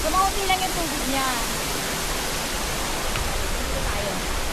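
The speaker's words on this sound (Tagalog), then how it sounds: "Nandito tayo sa ibabaw na Sampaloc Falls, ha." Sampaloc Falls in Siniloan, Laguna pours with a steady broadband rush of falling water, heard from the top of the falls, with a voice briefly speaking at the start.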